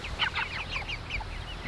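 Chickens cluck in a fenced enclosure, a quick run of overlapping close clucks and squawks over a low background rumble.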